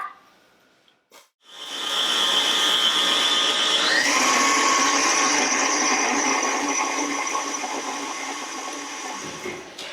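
An electric mixer whirs loudly and steadily through pumpkin cheesecake batter, starting after a short knock and running for several seconds with a slight shift in pitch midway.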